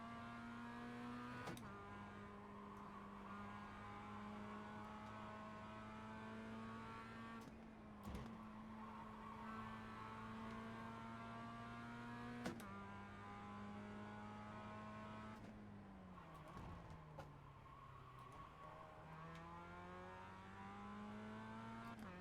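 Race car in the iRacing video game, engine whining and shifting up through the gears with sharp drops at each shift, steady and fairly faint, no talk.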